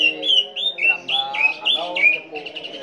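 A green leafbird (cucak ijo) at a songbird contest gives a rapid run of sharp, loud chirps and squawking whistles, close and lively, with a rhythmic repeating pattern.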